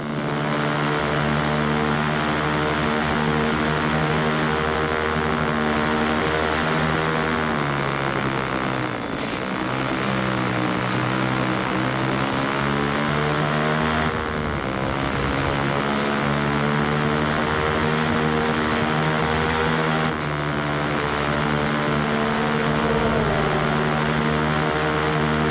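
A helicopter flying in Watch Dogs gives a loud, continuous rotor-and-engine drone that rises and falls slightly in pitch as it moves, with a few faint clicks on top.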